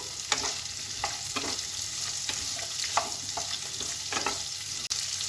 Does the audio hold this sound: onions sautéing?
yes